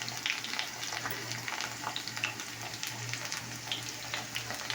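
Panch phoron spices, dry red chilli and small bay leaves sizzling in hot oil, a steady, fairly quiet crackle with scattered tiny pops and a low hum beneath.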